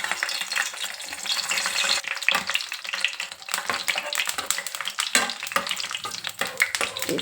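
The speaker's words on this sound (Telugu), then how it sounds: "ఇప్పుడు నూనె వేసుకొని కారానికి సరిపడా ఎండుమిర్చి వేసుకొని వేయించుకుందాం" Dried red chilies fry in hot oil for an Indian gooseberry (amla) chutney, giving a steady close crackling sizzle with intermittent scraping stirs throughout and no talk.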